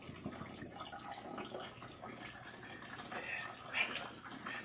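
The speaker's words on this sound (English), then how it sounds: "Rinse out the shampoo until you see that the water is nice and clean." Water rinses shampoo out of natural hair, a soft, low splashing and trickling that runs on quietly and steadily.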